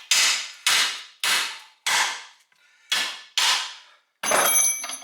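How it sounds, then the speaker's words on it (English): Six sharp metallic hammer blows strike a control arm bushing during front-end teardown of a 1968 GTO A-body, each ringing and decaying, with a brief pause, followed by a final clanking hit; close and loud. "Should be able just to hammer on it about right there."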